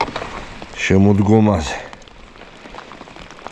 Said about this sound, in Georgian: ოჰო, წვიმს